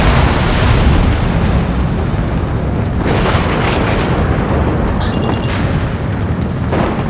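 A missile launching from a fighter jet in the Ace Combat 7 flight game, a loud, sustained roaring whoosh of rocket thrust and engine wash filling the whole stretch, with a surge near the middle.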